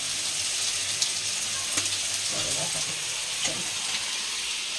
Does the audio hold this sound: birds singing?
no